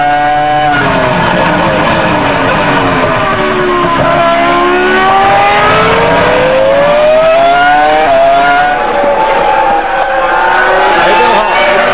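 A Williams Formula 1 car engine screams at high revs during the 2003 French Grand Prix, very loud and close, its pitch sweeping down and climbing again through gear changes over several seconds, with race commentary faintly underneath.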